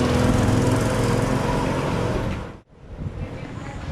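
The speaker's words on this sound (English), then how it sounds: "That might be the tractor right ahead there." A tractor engine drones loudly while pulling a big wooden cart on the road to Ladrilleros, a steady rough roar that suddenly drops out, then returns more quietly.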